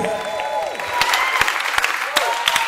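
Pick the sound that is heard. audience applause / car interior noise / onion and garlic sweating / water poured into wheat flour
audience applause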